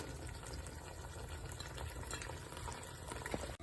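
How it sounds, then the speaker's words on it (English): Peppers being stirred into freshly drained pasta for a spicy desi pasta, giving a steady, close scraping and shuffling with a constant sizzling, boiling hiss underneath, no voices. "So now I'm just going to give that a mix."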